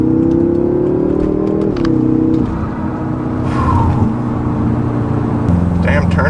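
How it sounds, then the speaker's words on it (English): A 2016 BMW M5 with a Dinan tune and twin-turbo engine pulls away under acceleration, its low steady drone and rumble shifting as gears change, loud and close throughout. "When that turbo spools up, those turbos I mean, watch out"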